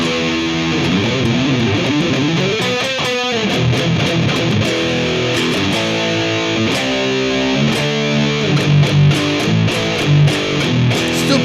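Chibson electric guitar played through a coil-tapped pickup, strummed chords and picked single notes with mild distortion, loud and close, ringing steadily without talk.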